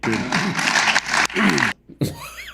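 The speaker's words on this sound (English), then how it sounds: "Why are you applauding?" Applause from an audience at a comedy show, a burst of clapping lasting under two seconds, then a voice speaks.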